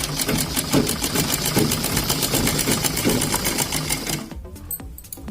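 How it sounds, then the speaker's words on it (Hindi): A sewing machine runs steadily while stitching around the corner of a kurti, its rapid needle chatter continuing loud and close for about four seconds before cutting off abruptly, leaving a brief near-silence with a few faint clicks. "कॉर्नर पे तो मशीन की सिलाई करते हुए आएंगे"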